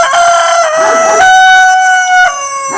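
A Cochin rooster crows loudly and close by, one long drawn-out call with a strained, wavering tone filling the whole moment.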